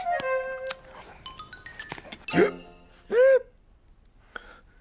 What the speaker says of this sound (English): Did that biscuit tin just hiccup?